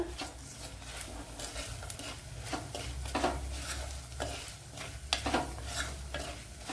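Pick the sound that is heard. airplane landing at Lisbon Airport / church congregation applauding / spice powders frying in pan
spice powders frying in pan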